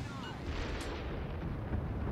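Warship guns firing in World of Warships Legends, a dense rumbling boom of naval artillery that rolls on steadily for about two seconds, loud and close.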